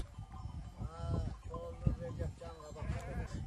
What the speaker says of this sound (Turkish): Şu anda 500 koyun var.